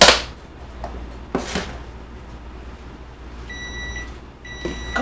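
A kitchen appliance timer gives a few short, steady electronic beeps in two brief bursts, close by and alone, with soft handling clunks before them.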